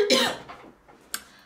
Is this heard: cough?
yes